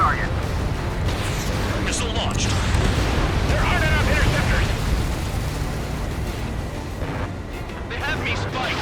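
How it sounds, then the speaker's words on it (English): Missile launches and explosions fill a F-14 jet combat video game attack on an oil port, rumbling booms and bursts layered under dense game noise, with radio-style voices chattering over the action. "Missile launched."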